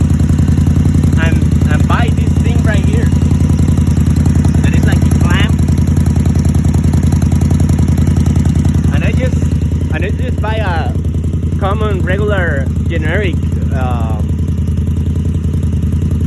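An Indian Scout Sixty motorcycle fitted with Vance and Hines Grenades exhaust idles after a cold start, a steady close low rumble throughout while someone talks over it.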